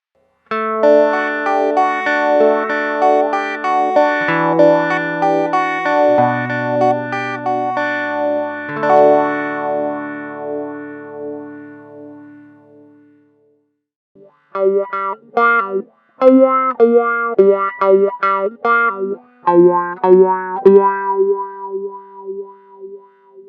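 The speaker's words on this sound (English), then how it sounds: "it's actually an auto-wah that repeatedly oscillates the sound based on the rate you choose" Electric instrument run through the auto-wah modulation of Walrus Audio M1 and Flamma FC05 pedals. A sustained, swelling chordal passage is followed by a pause and then choppy, rhythmic pulsing notes, loud and close, with no voices.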